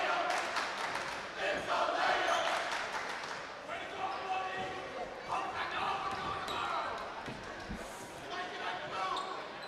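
The Attleboro student body jeers from the stands during a boys varsity basketball game against North Attleborough, a rowdy crowd roar rising and falling, with ball bounces, sneaker squeaks and an announcer talking over it.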